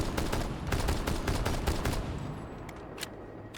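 Rapid bursts of video game gunfire with recoil, loud and dense, the shots running together for most of the stretch before thinning to a few isolated cracks near the end, with no voices.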